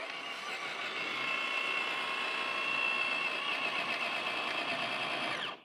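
A Traxxas TRX4 Bronco RC crawler runs its motor at full throttle on a trail obstacle, giving a steady high-pitched electric whine held level for about five seconds, close up, before it cuts off abruptly.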